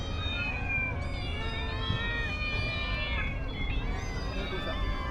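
A cat meows repeatedly in short, faint, wavering cries against a steady background hum at Legoland Japan's Miniland, with a few rising calls spread across the clip.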